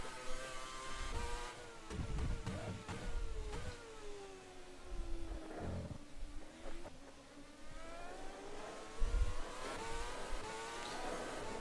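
F1 2013 car engine in the rFactor 2 racing game, repeatedly revving hard up to the 17,000 rpm limiter with rising and falling high-pitched whines, gear changes and brief dips, loud and alone.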